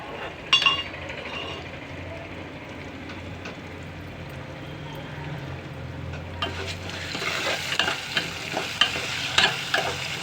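Tempering sizzling in oil in a pan while making pulihora, a steady low frying hiss that swells brighter and louder in the second half, with occasional clinks and stirring scrapes.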